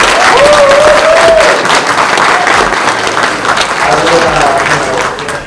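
Conference audience applauding at a tech event's closing keynote, a dense, steady wash of clapping filling the whole stretch, with a brief whoop or voice rising above it.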